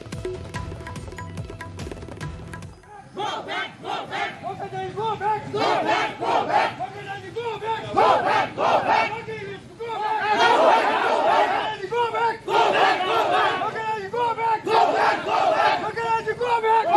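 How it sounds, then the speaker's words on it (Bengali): A crowd of TMC supporters chanting a rhythmic protest slogan at BJP candidate Locket Chatterjee in Hooghly during the 2024 Lok Sabha election, loud massed voices in repeated bursts after a short stretch of a newsreader talking. "লকেটকে গো ব্যাক স্লোগান তৃণমূলের।"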